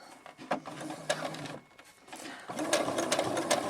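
A sewing machine runs in steady bursts while stitching a purse lining, with a short pause midway before the stitching resumes at a louder, continuous pace. It is close and clear, and no one speaks.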